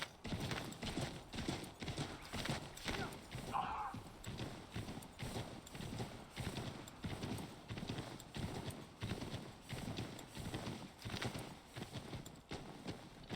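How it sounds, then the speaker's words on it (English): Horse hooves clip-clop in a steady, even trot throughout Assassin's Creed III Remaster, close and continuous, with a brief whinny breaking in partway through. "Wonder what happened to the horse sounds for a second."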